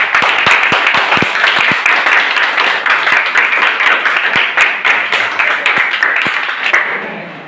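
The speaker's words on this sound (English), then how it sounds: "So let us clap for Durge to present white." A room full of people claps steadily and loudly for several seconds before the applause tapers off.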